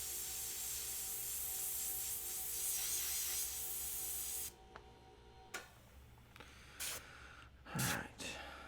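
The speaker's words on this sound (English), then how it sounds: "Let's see how this airbrush is even shooting first." An airbrush spraying paint gives a steady, close hiss for about four seconds, then cuts off abruptly. Quiet clicks, handling noises and a breathy rustle follow in near silence.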